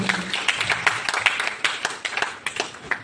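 Audience applause at a teachers' day celebration: a steady patter of many hands clapping in a hall, with sharper individual claps standing out, continuous throughout.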